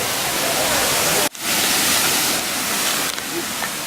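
Budlaan Falls near Cebu City sends out a constant, loud rushing roar of falling water, broad and steady throughout, with only a brief dip.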